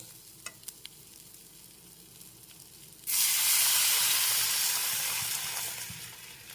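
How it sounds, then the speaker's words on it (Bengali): Mango pieces with salt and turmeric cooking for a sour fish-roe dish, first a faint bubbling with a few clicks, then a sudden loud steady hiss and sizzle that slowly fades near the end. "এখন একটু ফুটতে দিচ্ছি"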